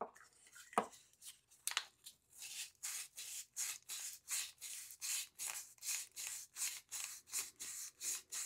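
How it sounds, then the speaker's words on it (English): Sandpaper pressed over a golf ball rubs back and forth against an inside wooden edge, a close, dry scratching in an even rhythm of roughly two strokes per second, after a few irregular scrapes at the start. "it's going to sit in here and with sandpaper in between, and we'll bevel that edge"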